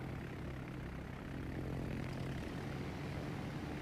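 Propeller engines of a bomber squadron droning steadily in World of Warships, a dense, continuous hum with a low tonal buzz that holds at even loudness throughout, no voices.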